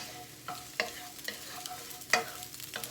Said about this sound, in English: Immediately add your egg and stir.